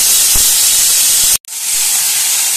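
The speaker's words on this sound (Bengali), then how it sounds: "এবার জল থেকে তোলা কচু শাকটা আমি মিশিয়ে দিচ্ছি" Wet taro greens (kochu shak) dropped into a hot pan for a Bengali dish with hilsa fish head, giving a loud, steady steam hiss and sizzle that cuts out abruptly for a moment before resuming.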